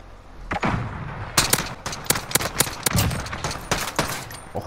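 Rapid bursts of automatic gunfire from the video game Modern Warfare during a tournament match, sharp repeated shots in quick clusters with short gaps, loud and close.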